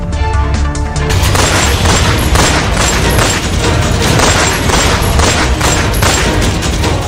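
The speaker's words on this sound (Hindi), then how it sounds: "एक नहीं, 2 नहीं, 3 नहीं, करीबन 25 राउंड गोलियां दागी गई।" A loud, sustained volley of gunfire, about 25 rounds fired by three masked men in front of a house, cracks out in dense rapid bursts with no pauses.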